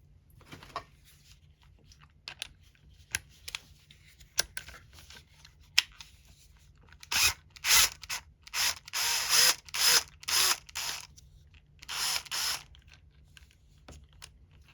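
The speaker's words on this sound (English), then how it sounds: "You have to unscrew this screw here." A T20 Torx driver loosens a screw on a shower valve. Faint clicks and scrapes come first, then a run of short, close ratcheting and grinding bursts in an uneven rhythm, with a quiet hum underneath.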